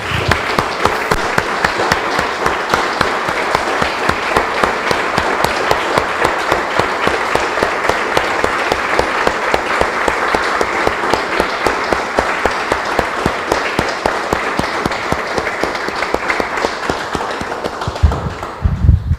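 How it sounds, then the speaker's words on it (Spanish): A church congregation applauds steadily for about eighteen seconds, dense rhythmic clapping at close range that holds an even level before trailing off at the end. "Damos un aplauso, hermanos, al Señor."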